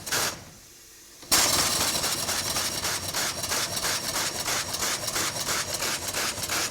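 A 1.6 inch live steam engine running on compressed air chuffs in a rapid, steady rhythm after a short quiet hiss, loud and close with no talking.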